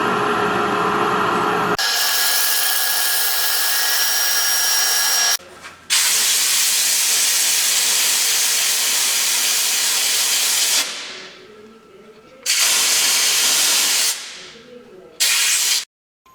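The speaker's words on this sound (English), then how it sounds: "Going to do a little bit of sanding now." A sander grinds with a steady, gritty hiss for several seconds on a wooden pencil holder, then cuts out and returns in a few shorter bursts separated by quiet pauses.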